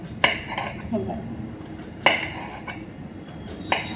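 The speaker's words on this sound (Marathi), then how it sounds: "तर हे आपण असं चिप्सपेक्षा थोडेसे जाडसर काप करायचे" Knife slicing sweet potato into thick chips on a board, three sharp separate cuts with pauses between, close by, faint kitchen clatter underneath.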